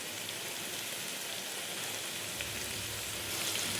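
Cashews frying in hot oil with garam masala spices in a pan for cashew chicken masala, giving a steady, close sizzle that holds evenly throughout with no talking.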